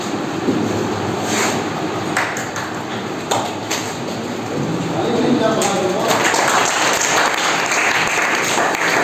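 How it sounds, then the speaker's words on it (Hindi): A group at a school health and yoga session claps hands together in quick bursts as an exercise, the crowd clapping growing fuller and more sustained toward the end amid background chatter. "अरे जोर से ताली बजाइए।"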